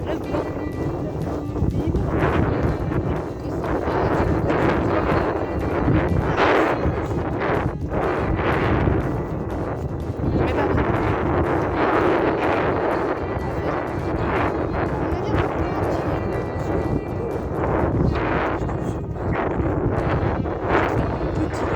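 Steady wind buffets the microphone throughout a horseback ride, a continuous rushing roar with gusty swells, and a voice talks over it at times.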